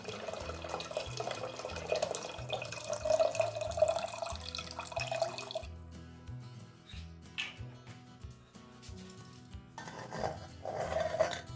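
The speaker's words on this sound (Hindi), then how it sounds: "मैं थोड़ा सा ये वाइट वाइन यानी कि हरा अंगूर का वाइन डाल लेता हूँ" Homemade white wine made from green grapes is poured, giving an uneven trickle and intermittent dripping and splashing of liquid that rises and falls over several seconds.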